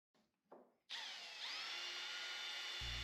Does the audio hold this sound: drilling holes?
yes